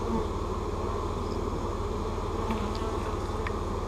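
Honey bees buzz steadily around a hive, a dense continuous drone close by, with no talk.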